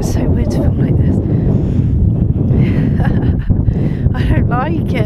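Strong wind roars and buffets the microphone continuously at an urban mountain-bike spot near bent, windswept trees, with a voice speaking through the gusts.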